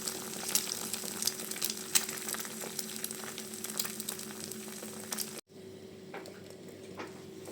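Egg frying in oil in a pan with salt sprinkled on top, a soft continuous sizzle close by that cuts off abruptly and resumes more quietly.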